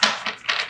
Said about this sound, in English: let's shuffle these a couple more times